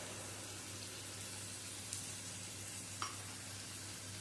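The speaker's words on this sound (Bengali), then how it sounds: "টমেটো দিয়ে একটু হালকা ভেজে নেব" Tomato and ground spice paste fries in a pan for a poppy-seed egg and potato curry, giving a steady close sizzle with two brief faint clicks partway through.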